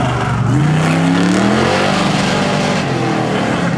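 Autocross race car at the 2013 Goodguys Nashville Nationals accelerating hard out of the start gate, a loud close engine note climbing steeply in pitch through the gears.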